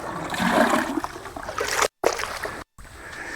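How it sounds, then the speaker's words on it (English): Water pours and splashes into a bucket beside a pond, a close, steady gushing with brief breaks in the flow and no talking. "We'll go ahead and fill my bucket up."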